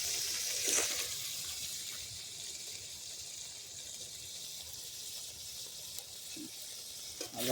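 Long-cut potato pieces fry in a pan with a steady, soft sizzle that hisses on without pause. A couple of brief clinks break through, and no one speaks.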